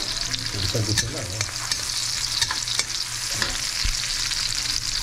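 Pork bones frying in a pan with garlic, a steady crackling hiss with occasional stirring clatter, close and continuous without talk.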